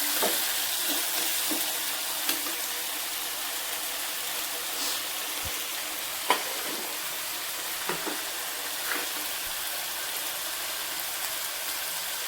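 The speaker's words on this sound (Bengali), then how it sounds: "এরপর এটা একটু ভাজা ভাজা হয়ে যায়" Steady, moderate frying sizzle fills the whole clip, broken by a few soft scraping stirs; no voices.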